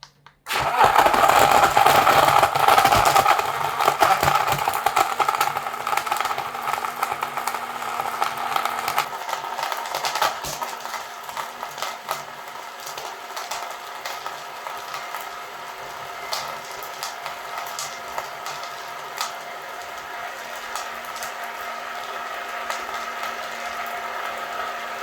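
Budget Temu blender running, a loud grinding whir at start-up that settles into a steadier, quieter mechanical hum with rattling texture over about twenty-five seconds.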